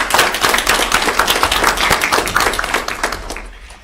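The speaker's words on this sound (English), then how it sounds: "If you would please give the executive team a big round of applause" An audience applauds the executive team at an annual data showcase, a steady burst of many hands clapping that fills the room for several seconds before thinning out at the end.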